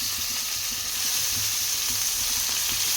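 Tomatoes fry for moong dal khichdi in a pan, giving an even, close sizzle with soft low stirring knocks throughout and no one speaking.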